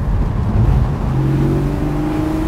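A 2020 Porsche Boxster GTS 4.0 with a 395-horsepower, naturally aspirated six-cylinder engine and a 7,700 RPM limit, revving loudly up close. Its engine note climbs steadily into a smooth, rising tone, with no talking.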